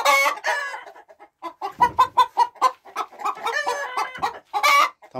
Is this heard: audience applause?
no